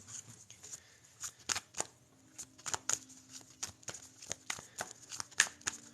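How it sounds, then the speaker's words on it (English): Tarot cards are shuffled close up in a quiet room. Soft, irregular riffles and snaps come in short bursts with brief pauses between them, and faint talk is barely audible underneath. "We're going to shuffle these cards."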